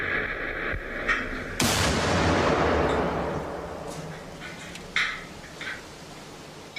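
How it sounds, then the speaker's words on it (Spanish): A sudden loud car bomb blast erupts beside an armored car, followed by a long rumbling roar that slowly decays, with scattered smaller bangs and crackles afterward. "sometido a la fuerte detonación de una explosión de bomba colocada en un vehículo adyacente"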